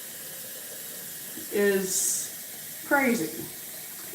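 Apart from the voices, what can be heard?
tap water running for a water cooker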